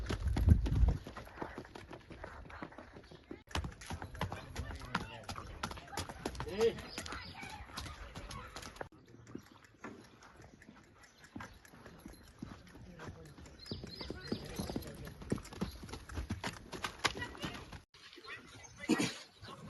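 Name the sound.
horse hooves clip-clopping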